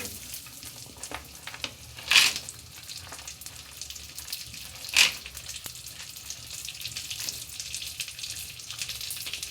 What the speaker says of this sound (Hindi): अब इनको रोस्ट कर लेंगे अच्छी तरीके से। और बादाम के साथ में ही डाल देंगे काजू को भी।